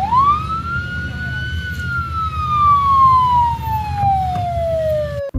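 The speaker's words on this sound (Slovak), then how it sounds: "Policajné autá, ktoré tam nie sú pre srandu." A police car siren wails loudly and close in a city, sweeping up then slowly falling in one long continuous tone over low traffic rumble.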